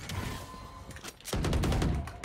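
Bursts of rapid automatic gunfire in the video game Valorant crackle loudly and densely, a short volley followed by a brief lull and then a heavier sustained fusillade.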